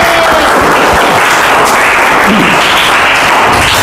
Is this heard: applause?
yes